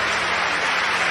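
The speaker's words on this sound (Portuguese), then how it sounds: "dê a melhor salva de palmas que você já deu na sua vida" Church congregation in Vila da Penha, Rio de Janeiro, applauding during a sermon, a steady dense wall of clapping filling the room with no voices over it.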